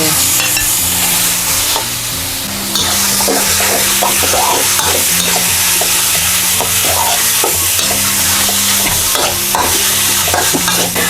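Pork leg stir-fried with red curry paste in a pan, a loud, close, continuous sizzle with constant clattering and scraping of the spatula throughout, over a low background hum.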